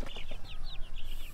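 On a farm in the Philippines, a chicken gives a quick series of close, soft clucks, about six short calls in just over a second.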